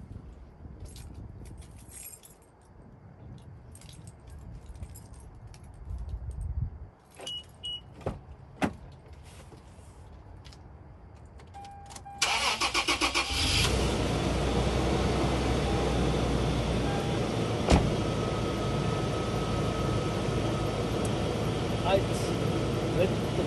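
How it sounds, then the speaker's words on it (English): Inside a Toyota truck, keys jangle and clicks sound before the engine cranks and catches around midway, then settles into a steady loud idle with a cabin fan hum, while someone talks throughout. "I will start this truck."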